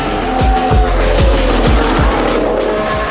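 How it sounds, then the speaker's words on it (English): Formula One race cars at the 2021 Portuguese Grand Prix, with loud, high-pitched engines roaring continuously and repeated downshift blips and revving cutting through at a steady, close, driving rhythm. "As engines roared to life on May 2nd, the anticipation was palpable"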